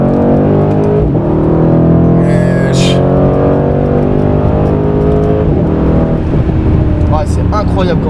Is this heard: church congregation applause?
no